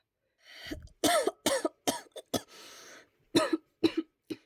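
A run of harsh coughs in quick bursts, several close together after a breathy sigh, then a few more spaced coughs, close and fairly loud.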